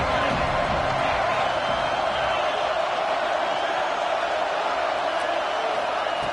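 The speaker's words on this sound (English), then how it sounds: "The crowd is roaring, trying to help this defense on 4th down" Football stadium crowd at a Tennessee vs Alabama game on a 4th-down defensive stand, a loud, continuous roar of massed voices filling the space evenly from start to finish.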